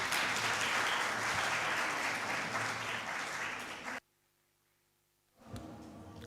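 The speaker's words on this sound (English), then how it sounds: "Please give a nice round of applause for them." Audience applause at a literary festival panel on cricket and citizenship, a dense, steady clapping for about four seconds that cuts off abruptly into near silence before a voice resumes.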